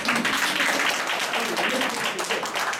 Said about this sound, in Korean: 우리 수고하시는 우리 MBC PD님 박수 한번 주세요